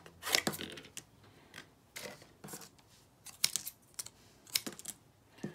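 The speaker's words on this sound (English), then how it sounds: "I'm just going to cut them into some pieces." Scissors cutting paper objects into pieces, a run of crisp snipping clicks in irregular bursts, close and fairly quiet with no voices.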